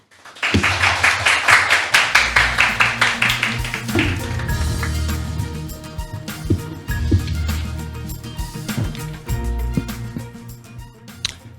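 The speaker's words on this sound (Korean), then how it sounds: "박수로 환영해 주시면 감사하겠습니다." An audience at a KAMCO recruitment briefing at Chungbuk National University applauds to welcome a regional director. The crisp, close clapping is strong at first, then thins and fades under soft background tones.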